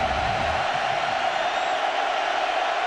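Steady roar of a large football stadium crowd on a third down, a dense wall of continuous noise with faint whoops throughout.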